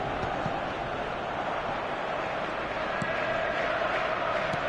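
Stadium crowd in a PES football video game, a steady, dense roar of cheering that stays loud throughout, with faint commentary-like voice underneath.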